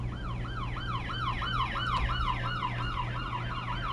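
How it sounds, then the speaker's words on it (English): Police siren sound effect in the Wreckfest racing game, a steady repeating wail cycling about twice per second, loud and continuous over a low engine rumble, with no talking. "Got a siren."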